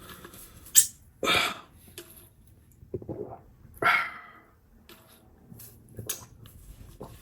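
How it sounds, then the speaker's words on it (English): Several hiccups come one at a time with irregular gaps between them, some sharp and breathy and others softer. They are close and fairly quiet, with no talking. "the hiccups are back"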